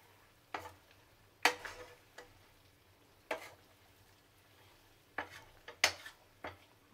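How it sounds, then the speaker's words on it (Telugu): A spoon stirring coriander into mutton fry in a pan, making sharp, separate scraping clinks spaced irregularly over a quiet background, with no voices. "ఇప్పుడు కొత్తిమీర వేసుకొని ఒకసారి కలుపుకుందాం."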